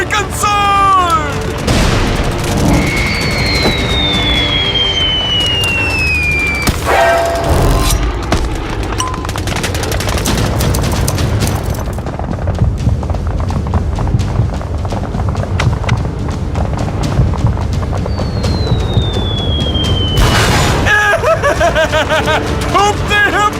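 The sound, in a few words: grenade explosions and gunfire in animation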